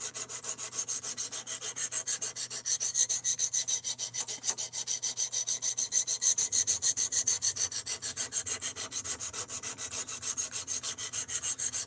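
An Ozark Trail axis lock knife with a D2 blade being sharpened, even rhythmic rasping strokes repeating steadily back and forth, close and clear with no talk.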